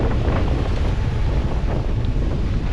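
Strong 20-knot wind buffets the microphone on a sailboat at sea, a steady low roar mixed with rushing water, no voices.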